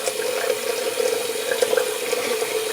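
Tap water runs steadily into a bathroom sink during a shave with a Gillette Trac II razor, a close, continuous splashing stream with no voices.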